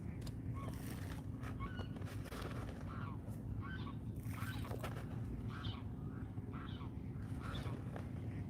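Geese honk repeatedly near a pond in Arlington, Texas, a series of short calls at a moderate distance that rise above a constant low outdoor rumble.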